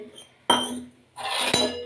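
Tea dishes are washed at home, with two close bursts of clinking and clattering of utensils, a sharp knock followed by a longer rattling scrape.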